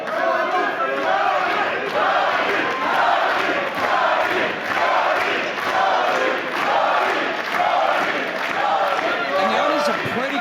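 Crowd noise from an audience at a Fight4Pride 3 fight event, a steady dense roar with rhythmic surges that holds throughout, loud and continuous, with voices mixed into the din.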